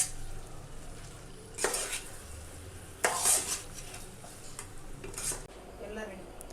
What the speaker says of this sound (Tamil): ஒரு வாட்டி மிக்ஸ் பண்ணிக்கோங்க போதும்.